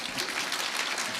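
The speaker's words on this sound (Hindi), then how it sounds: "अब ताली बजाओ।" An audience claps together in a brief, steady burst of dense, fairly close hand claps with no voices over it.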